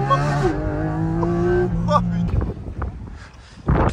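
A drifting car's engine holds a droning, revving tone for about two seconds, then drops away into rough rumbling noise as people talk nearby.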